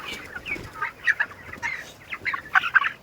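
Several poultry-farm chickens cluck in short, scattered bursts, fairly close, with a few sharper squawks toward the end and no talking.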